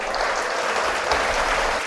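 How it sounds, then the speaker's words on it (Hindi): An audience at a farmers' TV forum applauds for a stage guest, steady dense clapping throughout with no talk over it. "तालियां बजा दीजिए एक बार।"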